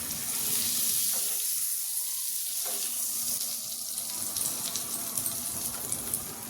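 Aloo paratha frying in butter on a pan, a steady close sizzle and hiss with small crackles scattered throughout, continuous with no talking.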